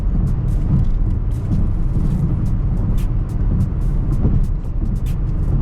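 A 2022 BMW 750i xDrive cruising at night, heard as a constant low road and engine rumble with steady tire roar from inside the cabin, faint ticks scattered over the top.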